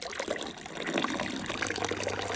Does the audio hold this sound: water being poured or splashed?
yes